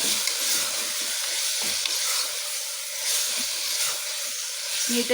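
Ginger garlic paste frying in a pan for a spiced brinjal rice dish, a steady broadband sizzle running close and continuous throughout, with a few soft stirring scrapes near the end.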